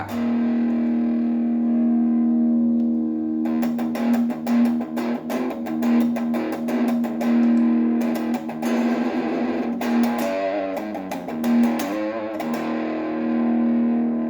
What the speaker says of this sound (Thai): มาลองฟังเสียงแตกดู